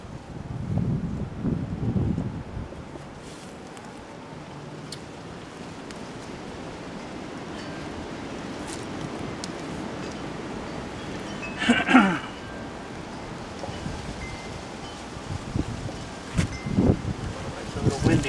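Wind buffets the microphone outdoors in a steady rumble, with occasional gusts and a few brief knocks.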